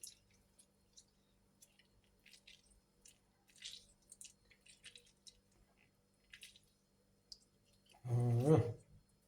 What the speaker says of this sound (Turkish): Bunu da sıkıyorum. Limon küçük boy. Onun için tümünü sıkıyorum